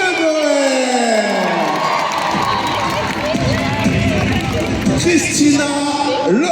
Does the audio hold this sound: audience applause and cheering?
yes